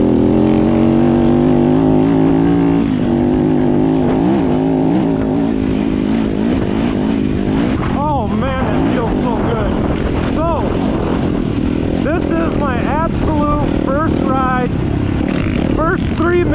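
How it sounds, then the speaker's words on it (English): A 2018 Yamaha YZ250FX dirt bike with newly retuned suspension rides out, its engine droning loud and continuous with rising and falling revs and gear changes throughout. "First 3 minutes on the bike with my brand new suspension."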